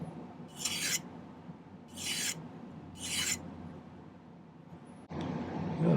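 Three rasping file strokes scrape excess solder from a silver ring on a hammered silversmithing project, each stroke about half a second long, close and steady, with a brief clatter near the end.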